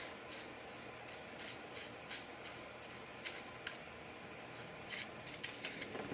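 Styling product is squirted onto curly pixie-cut hair in a few faint, short spurts and squishes over a low background hiss, close and quiet.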